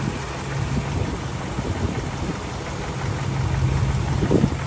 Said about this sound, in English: you can hear it just runs like a sewing machine.